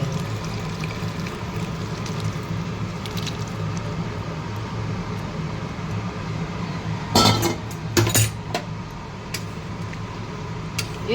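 Curry broth is poured into a cooking pot of bubbling food. A steady simmering hiss runs throughout, with a couple of short, louder splashing and clinking bursts near the end.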